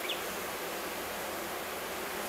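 Honey bees buzzing as package colonies are hived, a steady dense hiss-like hum holding evenly through the whole moment with no voices.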